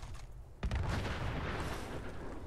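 A loud explosion in the video game Fallout 76, a sharp boom that breaks out of quiet game ambience and gives way to a sustained, dense rumble lasting a couple of seconds.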